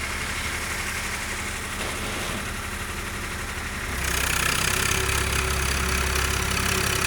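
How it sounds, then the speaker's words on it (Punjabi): A small tractor engine chugs and idles steadily nearby while puddling a paddy field, growing louder and rougher partway through as it works. "ਆਪਣਾ ਗਵਾਂਢੀ ਵੀ ਕਰੀ ਜਾਂਦਾ ਕੱਦੂ ਨਿੱਕੇ ਟਰੈਕਟਰ ਨਾਲ"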